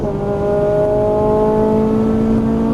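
Ferrari 458 Italia V8 at full throttle, a loud sustained engine roar with rising harmonic tones climbing steadily through the gears, close and continuous with no talk.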